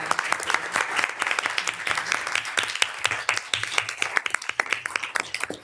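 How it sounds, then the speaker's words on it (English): Audience applause at a University of Minnesota Board of Regents committee meeting, a steady burst of many hands clapping at moderate volume for the full stretch with no voices over it. "let's maybe have one final round of applause for"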